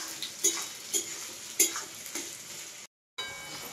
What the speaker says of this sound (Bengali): খুব ভালোভাবে লাল লাল করে এবার আমি ভাজবো।